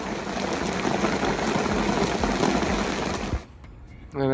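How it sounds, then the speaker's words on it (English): A heavy downpour hisses in a dense, crackling roar close by, then eases abruptly near the end, leaving a quieter patter before a brief rise. "you can expect a downpour now and again."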